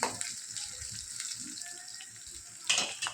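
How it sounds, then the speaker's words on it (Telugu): Onion fries in a pan with a quiet, even sizzle, broken by a short louder burst of stirring near the end, with no talking. "ఆనియన్ కలర్ మారేంత వరకు మనము వేయించుకోవాలి"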